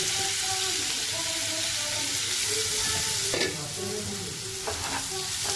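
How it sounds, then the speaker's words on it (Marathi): Two large chopped onions fry on a gas stove in a pan, with a steady loud sizzle and occasional stirring scrapes and clatters on top. "त्याला व्यवस्थित फ्राय करू आधी मोठा गॅसवरती याला शिजून घेऊया"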